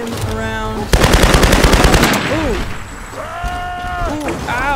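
Loud, rapid machine-gun fire bursts out for about a second in the Tomb Raider video game, amid echoing impacts and strained vocal cries before and after it.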